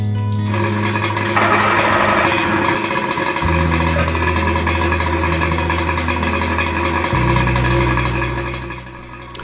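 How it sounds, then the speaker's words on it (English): A Johnson Evinrude outboard motor, run on a water tap for winterizing, starting and settling into a steady loud idle, its pitch stepping down twice before the sound fades near the end. "And now you can start up the outboard."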